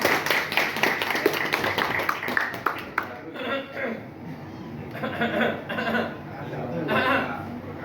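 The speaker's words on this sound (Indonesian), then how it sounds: "Tepuk tangan dong." Rapid clapping from an audience at a discussion event for a few seconds, fading into murmuring voices and light laughter.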